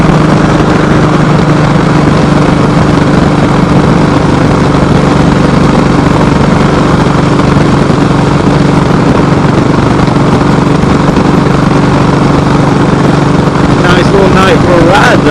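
A Kawasaki Voyager motorcycle engine drones steadily through a warm night ride. The low, loud rumble runs unbroken, with a few faint clicks near the end.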